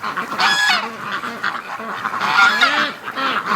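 Loud, nasal honking calls from ducks, several overlapping bursts in quick succession, close by with no talking.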